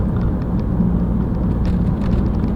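An old 1970s school bus on the Hemswell to Willoughton route runs quickly down a dip in a country road, giving a steady loud engine and road rumble heard from inside, with no talking.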